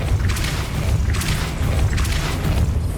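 Depulso spell cast in Hogwarts Legacy on PS5, a deep booming rumble with airy bursts that pulse repeatedly, loud and continuous.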